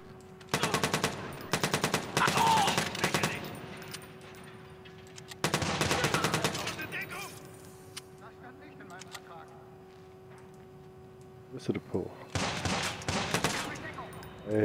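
Video game gunfire in Watch Dogs, several bursts of rapid automatic shots fired in clusters, with a steady tone and people talking at a lower level between them.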